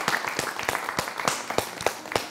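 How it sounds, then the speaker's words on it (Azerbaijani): An audience at a live broadcast claps in sparse, uneven bursts, distinct hand claps spaced irregularly across the moment rather than a dense roar, moderately close. "Bir daha çox xahiş edirəm, ürəkdən alqışlayaq onları."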